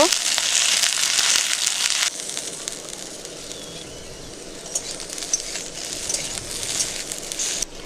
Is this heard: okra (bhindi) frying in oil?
yes